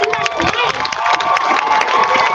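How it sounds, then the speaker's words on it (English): A crowd at an Asian lives matter rally claps and cheers, with raised voices and whoops riding over a continuous bed of applause, fairly close and loud. "Can we give them one more round of applause?"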